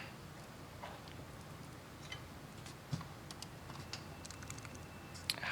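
Scattered keystrokes on a computer keyboard, sparse and irregular clicks at moderate distance over a steady room hum, with one or two sharper taps standing out.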